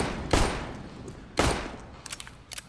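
Gunfire in CS GO, two loud, close shots about a second apart, each with a short ringing tail, then a scatter of quieter distant pops, with no talk.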